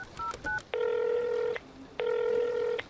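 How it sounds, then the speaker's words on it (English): Telephone being dialed: a few short keypad beeps followed by two long ringing tones with a pause between them. "I've just got to make a quick phone call."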